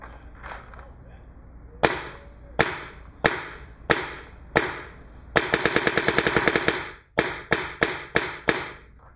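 An Ego/Etek paintball marker fitted with a hush bolt fires sharp, close shots: several evenly spaced single shots, a fast string of about a dozen, then more quick singles.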